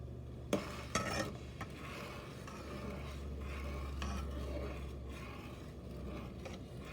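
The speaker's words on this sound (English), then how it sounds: "Give this a stir so we can mix everything together." A candied yam syrup of sugar and butter stirred in a pot on the stovetop, a couple of sharp spoon knocks at the start, then a soft continuous scraping bubble over a low steady hum, quiet and close.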